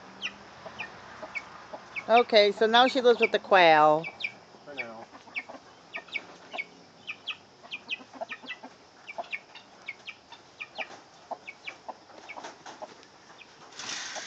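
Chickens kept alongside quail in a wire pen let out loud, drawn-out clucking calls in a brief burst, then scattered short chirps and clucks continue close by while a person talks over them.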